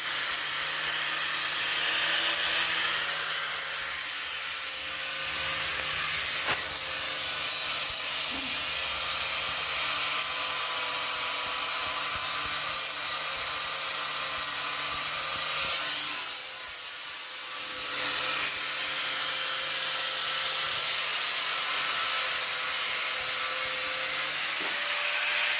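Grinding during work on an EZ-GO off-road golf cart makes a harsh, sustained, high-pitched abrasive rasp that runs loud and close, dipping briefly once before carrying on.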